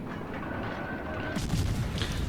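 Naval shells slam into the superstructure of the battleship Gneisenau in World of Warships Legends, a dense, steady barrage of booming impacts that swells suddenly louder partway through and starts fires.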